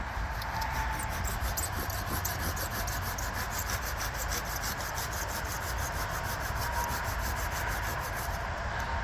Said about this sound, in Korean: 이제 이런 식으로 톱질을 해야 되는 거죠